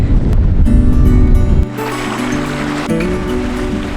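Strong wind on a car roof tent buffets the microphone in a loud, steady roar with a rushing, surf-like wash and no speech.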